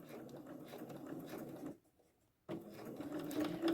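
A sewing machine stitches an invisible zipper, with its needle running close to the zipper teeth. A steady mechanical whir comes up close, stops for a short pause, then starts again.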